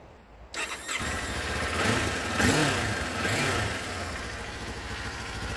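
A 2024 Kawasaki Ninja 500 KRT Edition motorcycle is started indoors in a showroom. The starter catches and the engine settles into a steady, close idle with a couple of light throttle blips.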